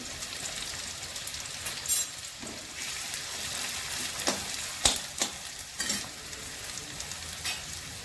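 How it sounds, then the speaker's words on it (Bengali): Grated garlic fries in a pan for palak paneer, with a constant close sizzle broken by occasional stirring scrapes and knocks, and no one speaking. "গ্রেট করা রসুন দিচ্ছি, রসুনটা একটু বেশি দিচ্ছি,"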